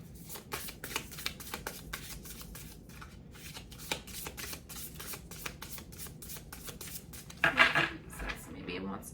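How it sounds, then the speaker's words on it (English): Tarot cards being shuffled by hand, a rapid series of crisp riffling flicks up close, with a brief louder rustle near the end and faint talking underneath. "Maybe it wants me to shuffle some more."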